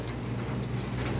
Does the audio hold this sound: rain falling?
yes